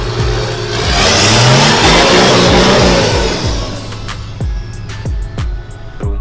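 A Landcruiser 79 series with a homemade 3-inch exhaust revs hard, a loud, close swell that builds and falls away, then a string of sharp throttle blips at the end.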